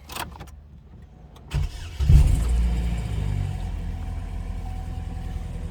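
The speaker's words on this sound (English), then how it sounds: "we're gonna turn the vehicle on and turn the AC on high" A car engine cranks briefly, catches, and roars to life, then settles into a steady, close idle rumble.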